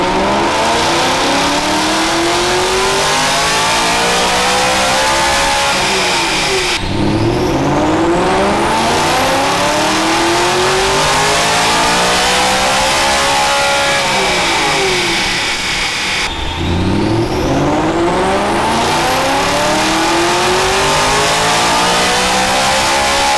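A BMW E92 M3 with a Stage 2 tune and primary decat revving hard on a dyno, three long loud pulls climbing steadily in pitch, each cut off sharply before the next, with no talking.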